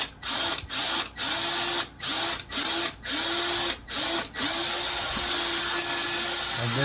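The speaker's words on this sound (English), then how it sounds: "very slowly cut a notch that the bit can follow" A drill bit slowly cuts a notch into a bass guitar body, a close, loud whirring grind that comes in short repeated bursts with brief pauses, then settles into one longer steady run.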